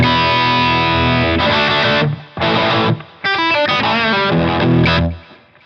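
Heavily distorted electric guitar through an LPD Pedals distortion pedal plays thick, saturated chords and a short riff, loud and close, with brief gaps between phrases.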